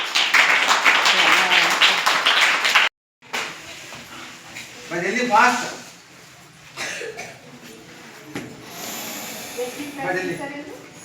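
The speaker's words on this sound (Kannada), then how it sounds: "ಜೋರಾಗಿ ಚಪ್ಪಾಳೆ ಹಾಕ್ರಿ ಅವನಿಗೆ" Loud applause from a school audience clapping for a student, dense and steady for about three seconds before breaking off, followed by people talking.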